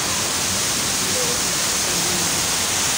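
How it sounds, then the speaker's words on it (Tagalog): Water flows continuously down a park water feature at Fung Tak Park in Wong Tai Sin, Hong Kong, draining into an opening below. It makes a steady, broadband rushing wash like a small waterfall, close and even throughout. "Tapos andito pala yung tubig. Tapos umaagos siya sa baba na mayroong butas."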